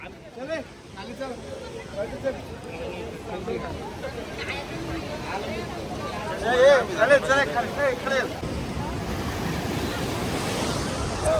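Waves wash and roll onto a Goa beach amid gusty wind, with people talking over the surf.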